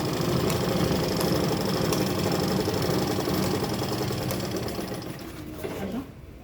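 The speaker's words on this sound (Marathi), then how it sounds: "अशा प्रकारे आपण स्टिच करून घ्यायचं पूर्ण कडेपर्यंत" A sewing machine stitches steadily along the edge of a fabric bag, a continuous close mechanical whir that slows and stops near the end.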